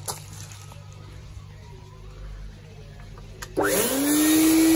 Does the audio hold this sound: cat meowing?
no